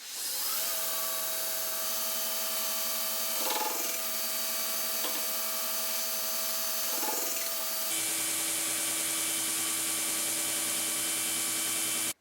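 A power drill fitted with a Corby bit whines steadily as it steps down pin holes in a knife handle for Corby bolts. The high-pitched tone holds close and loud, with brief dips, then shifts to a harsher, fuller pitch partway through.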